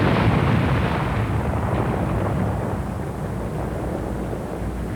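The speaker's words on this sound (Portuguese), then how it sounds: "Uma explosão em escala total controlada demonstra o efeito do amortecimento." A heavy, roaring explosion rumble from a full-scale controlled NASA aircraft crash test that slowly decays into a sustained, low, noisy wash, loud and broad without any voices.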